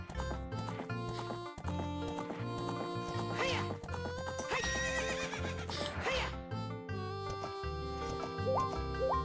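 A horse whinnies loudly and repeatedly in the Zelda: Ocarina of Time video game, the high electronic neighs mixed with clip-clopping hoof sounds and bright game music.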